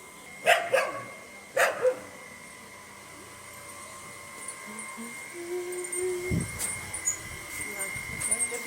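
A dog barks a few times at a distance: two quick pairs of barks early, then quieter sporadic noises over a faint, humming background.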